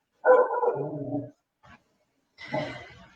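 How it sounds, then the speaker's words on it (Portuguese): A nearby dog gives a drawn-out bark-whine, a tiny yip, then another bark, with no talking over it. "Com som de cachorro e tudo, Jandira."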